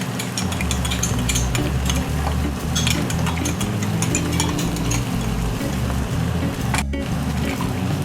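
Goulash stirred in a pot, a steady close churning and scraping with rhythmic clicks over a low rumbling background, continuous and fairly loud.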